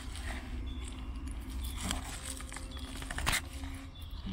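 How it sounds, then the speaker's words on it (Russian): A knife tearing open an anti-static bag holding a 256 GB SanDisk Extreme microSD memory card, giving close crinkly plastic rustles and small tearing crackles, with a sharper rip near the end. "И что-то ножик для распаковки начинает рвать"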